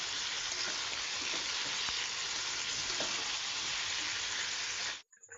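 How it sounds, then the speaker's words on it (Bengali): A paste of onion, garlic, ginger and chili fries in a pan with a steady, loud sizzle that cuts off abruptly near the end. "একটু ভাজা ভাজা করে জলটা ঢেলে দিলাম।"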